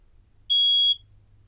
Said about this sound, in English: the ionizing smoke detector is what it sounds like